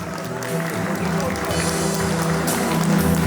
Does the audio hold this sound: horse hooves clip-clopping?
no